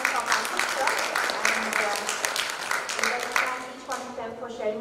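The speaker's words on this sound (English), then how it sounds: "Can we have a round of applause, ladies and gentlemen?" Seated attendees at a franchising conference give a round of applause for the speakers; scattered clapping runs under people talking close by and thins out toward the end.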